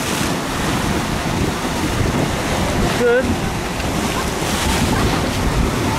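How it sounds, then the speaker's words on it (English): Steady roar of surf and wind along a rugged rocky coast near Torrevieja, Spain, with waves washing continuously against the rocks; a brief word is spoken partway through. "This is like rugged rocks and dashing waves."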